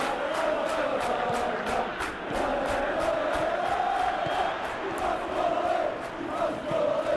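Stadium crowd noise in the football game PES 2021 during a Benfica versus Real Madrid Champions League match: a steady roar of fans with rising chants and whistling, moderately loud and unbroken.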